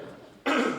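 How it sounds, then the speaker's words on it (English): A single abrupt cough from a performer in a stage production of The Importance of Being Earnest, short and forceful after a quiet moment. "Oh, don't cough."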